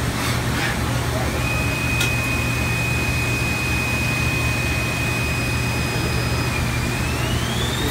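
A Haas DS-30 CNC lathe spindle runs up to 3,000 RPM, a high whining tone climbing and holding steady over a loud, constant machine roar, with a faint voice in the background.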